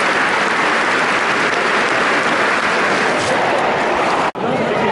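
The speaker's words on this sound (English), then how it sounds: "Clapping for the lad who passed away." A football crowd at a Sunderland versus Lincoln match applauding in tribute, a dense, steady wash of clapping from a large stadium audience that holds throughout, with a brief dropout near the end.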